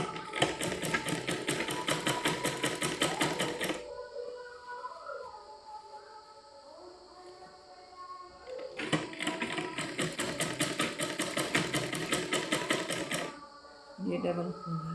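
A sewing machine runs a double line of stitching in two long, loud bursts of fast, even needle clatter, separated by a stretch where someone talks over quieter handling sounds.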